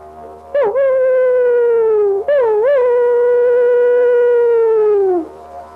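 A human voice imitates a dingo without any didgeridoo, giving two long, clear howls with pitch bends at the start, each sustained and slowly falling, close and loud.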